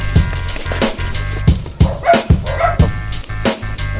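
A dog barks several times in short irregular bursts along a trail in Silang, close and loud over steady outdoor noise and low rumble.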